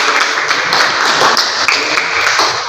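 Teachers and staff at a school dissemination session applaud with loud, continuous hand clapping, a few sharper individual claps standing out in the steady crowd sound.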